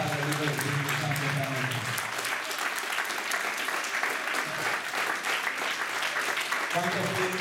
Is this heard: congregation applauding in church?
yes